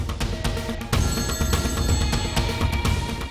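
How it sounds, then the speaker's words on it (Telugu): A telephone rings with a steady, repeating electronic trill, loud and clear in a quiet room with no talking. "రింగ్ అవుతుందన్నా"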